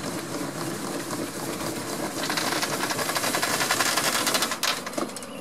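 A hand crank winds out a motorhome awning, a steady ratcheting whir of fast repeating clicks that grows louder midway and continues without talk.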